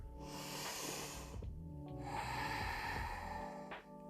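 A person doing yoga pelvic floor exercises draws in two long audible breaths, close and airy with a slight nasal hiss, separated by a short pause.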